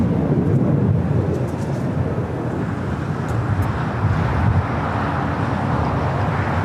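An ANA Boeing 787-9 Dreamliner in Future Promises livery arriving at LAX from Tokyo Haneda, heard as a steady, broad jet roar at a distance, mixed with wind rumble.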